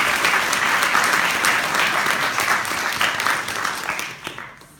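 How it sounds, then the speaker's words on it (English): An audience at a university speech night applauds a graduating student with steady, dense clapping that fades out at the end. "let's give her another round of applause"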